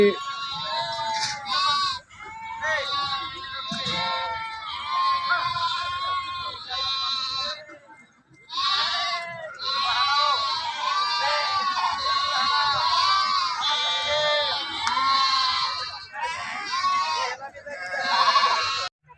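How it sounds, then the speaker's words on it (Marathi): A flock of sheep leaving a village shrine for the fields to graze, many overlapping bleats close and loud, continuing almost without pause apart from one short lull. "असा कळप शेतात चरायला निघालेला आहे"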